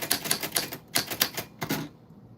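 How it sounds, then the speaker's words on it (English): Vintage typewriter typed on up close: quick bursts of sharp key strikes in an uneven rhythm, then a brief pause and a few more clacks before it falls quiet. "we are typing on a vintage typewriter"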